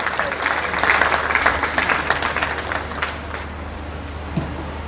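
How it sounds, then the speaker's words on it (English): An audience applauds steadily as a convener comes up on stage at a live-streamed church event, a dense wash of clapping that swells briefly and then tapers slightly, with no voices over it. "Hands of applause as he comes up to tell us what to do next"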